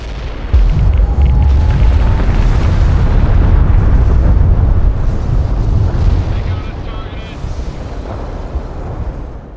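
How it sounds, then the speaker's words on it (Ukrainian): A tactical nuclear strike explodes in the strategy game World in Conflict, a loud sustained deep boom and roaring rumble that slowly fades. A faint voice is heard beneath it. "Для прикладу покажу вам, як тут реалізувала ядерний тактичний практичний удар."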